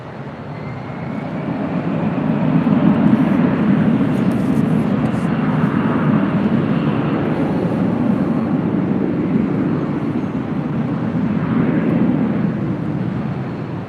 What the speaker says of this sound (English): Delta 2198, RNAV Delray, runway 24 left, clear for takeoff